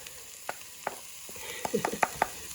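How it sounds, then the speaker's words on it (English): Vegetables sweat in a pan over medium heat for a potato and sausage soup, giving a soft, steady sizzle punctuated by scattered clicks and scrapes of stirring, close and fairly quiet. "let me sweat these veg"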